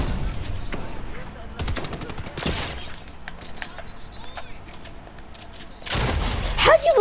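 Gunfire in a video game battle match, rapid bursts and volleys crackling in clusters over a steady game background, loud near the start and again toward the end, with players chatting over it.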